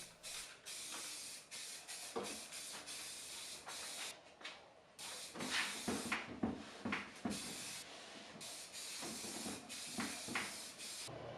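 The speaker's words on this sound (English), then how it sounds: "I'm priming with Rust-Oleum Flat White Spray-On Primer." Repeated hissing bursts from an aerosol can of Rust-Oleum Flat White spray primer on a dresser, short and longer sprays separated by pauses, close by with no talking.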